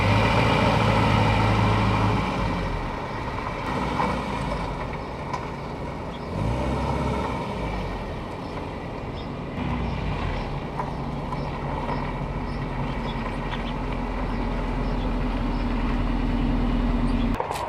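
A 1987 Volvo 245 DL station wagon is turned around, its engine humming and idling steadily at moderate distance with rumbling low-end and shifting tone over nearly twenty seconds.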